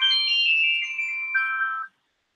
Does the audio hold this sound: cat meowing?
no